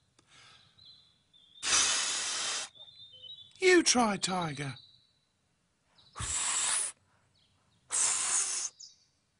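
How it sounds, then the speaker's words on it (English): Blade of grass held between fingers and blown, producing several loud, buzzy, hissing squawks in separate bursts, one warbling and pitched, with a person speaking briefly between them. "Get a blade of grass. Hold it like this. Then blow."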